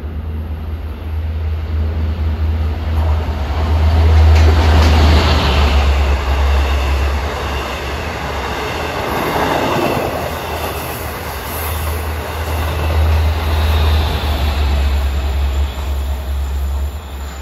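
An LIRR dual-mode train pulls into Merillon Avenue station, with a steady loud low engine drone, rumbling wheels and rail noise, and a brief faint wheel squeal building near the middle.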